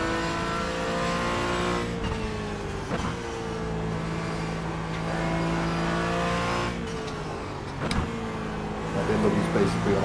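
A GT3 race car engine drones in a Nürburgring 24-hour sim race. The tone is sustained and shifts in pitch as the car accelerates and changes gear, and team radio talk is heard throughout.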